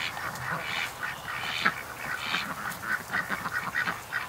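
Ducks quack in a rapid, repeated flurry near a swamp as they are spooked, the calls growing denser and choppier toward the end over a steady outdoor background.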